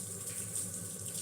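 Running water pours steadily from a tap as hands are washed beneath it during tapioca dumpling preparation, a close, continuous splashing rush with no talking.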